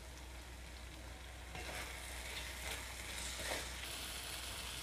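Tomato chutney sizzles faintly in a pan as it is stirred after coriander is added, a quiet hissing bed with a few soft scraping stirs in the second half.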